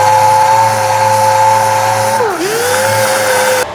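An air-powered mud hog sander whirs loudly and close on 1970 Ford LTD restoration metalwork, a steady high whine that dips sharply in pitch under load, recovers, then drops off abruptly near the end.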